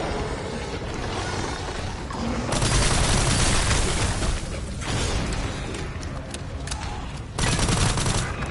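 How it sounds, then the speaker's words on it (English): Rapid assault rifle fire in the Resident Evil Requiem video game comes as two loud, sustained bursts with a lull between them, the second burst cutting in sharply near the end. "Bloody assault rifle, man."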